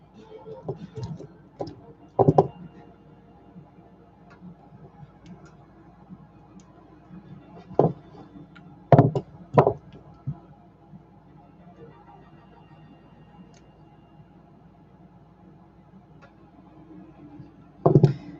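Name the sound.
cutting wire with cutters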